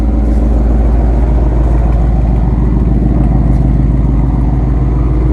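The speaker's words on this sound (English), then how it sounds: "give me a little rev here and there so that you can hear it" A car engine, from a Honda Civic Si and Ford Mustang 5.0 comparison, holds a loud, steady, close idle with a rumbling low drone and slight rev swells, and no talking over it.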